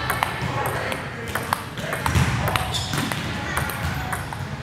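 A ping pong ball knocked back and forth with paddles in a casual game indoors: a steady run of sharp, bright pings and clicks at a quick, uneven rally pace, with people talking over the play.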